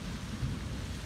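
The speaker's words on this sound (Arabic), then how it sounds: "كان تمطر الدنيا مطر مو طبيعي." Heavy rain falls with a low, continuous rumble of thunder during a downpour and flooding at Portana. The wash of rain and deep rumbling is steady and moderately loud, with no voices.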